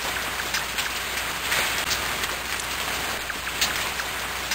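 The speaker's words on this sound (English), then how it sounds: "This rain is wigging out on me." Steady rain patters on a surface nearby, an even hiss of countless drops with occasional louder splats and no voices.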